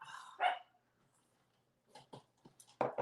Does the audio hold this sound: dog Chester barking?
yes